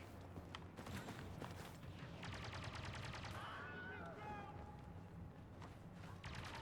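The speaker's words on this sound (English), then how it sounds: "I think I heard someone shooting it" Bursts of rapid gunfire from a Star Wars Battlefront 2 battle crackle in the middle of the clip, set against a steady bed of game ambience and scattered effects.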